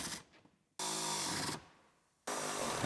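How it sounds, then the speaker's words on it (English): Bolts on a 2015 Chevrolet Silverado LTZ truck seat are tightened in two long, close whirring bursts from a power tool, separated by a brief pause. "Now we can tighten all the bolts down."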